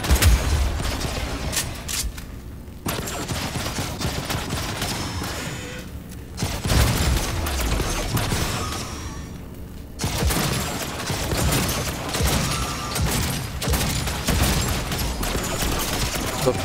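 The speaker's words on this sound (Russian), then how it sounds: "Да кто стреляет-то?" Gunfire in Cyberpunk 2077 comes as sustained volleys and scattered shots, loud and dense, with brief quieter gaps between bursts.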